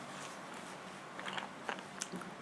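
Someone bites into a crunchy snack at close range, with a few quiet crisp crunches and chewing sounds over a low hiss of background noise.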